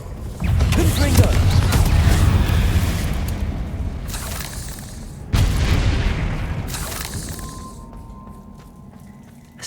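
Confringo blasting spell explosions in Hogwarts Legacy, two loud booming blasts with long rumbling decay, the second landing mid-clip, with the game's sound underneath.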